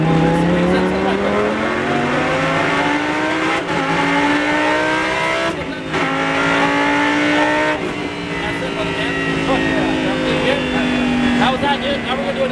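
A Lamborghini Super Trofeo race car laps the track at Exotics Racing Las Vegas, its loud, close engine whining upward through each gear with brief dips at three shifts, a continuous roar from an onboard position.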